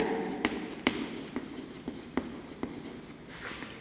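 Chalk or marker tapping and scratching out numbers on a board during a Grade 5 maths lesson on place value, a string of short, crisp strokes in an irregular rhythm, close and fairly clear over a quiet room.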